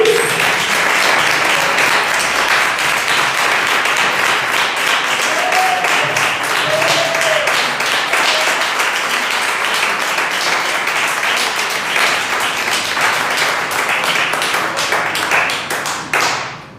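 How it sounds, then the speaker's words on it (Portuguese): A church congregation claps together in praise of Jesus, a thick, continuous wash of many hands that holds at full strength for over sixteen seconds before stopping abruptly. "Palmas para Jesus"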